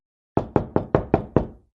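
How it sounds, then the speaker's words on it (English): Six firm knocks on a door in a quick, slightly uneven series, loud and close, with silence before and after. "There is another knock at the door."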